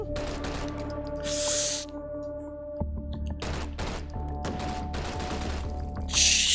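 A gun in the VR game Hot Dogs, Horseshoes & Hand Grenades fires a series of sharp shots in a quick burst, with mechanical clicks and metallic handling noises around them.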